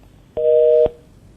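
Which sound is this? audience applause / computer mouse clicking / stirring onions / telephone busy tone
telephone busy tone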